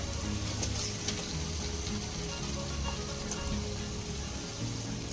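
Mutton head curry frying in a pan, giving a continuous low sizzle with scattered small pops and faint clinks throughout.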